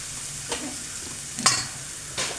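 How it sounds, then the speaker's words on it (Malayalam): Turmeric powder fries in hot oil in a pan, giving a steady soft sizzle broken by three brief scraping stirs, close and moderately quiet. "ഇച്ചിരി മഞ്ഞൾപ്പൊടി ഇട്ട് ആ മഞ്ഞൾപ്പൊടി ഒന്ന് മൂക്കട്ടെ"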